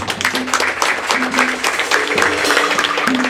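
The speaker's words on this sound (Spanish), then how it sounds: "Démosle un aplauso entonces." Guests at a quinceañera celebration applaud, a crowd of hands clapping steadily and fairly close, with low musical tones in the background and no clear speech.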